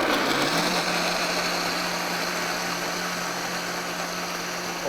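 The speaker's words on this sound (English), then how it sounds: "we are going to blend this until it's smooth" A high-powered blender whirs steadily at full speed, pureeing soaked cashews with pepper into a smooth vegan lasagna sauce, a dense continuous motor drone with a steady hum that holds unchanged from start to finish.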